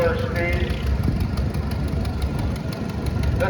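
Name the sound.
Heavyweight Oil Pull tractor two-cylinder kerosene engine running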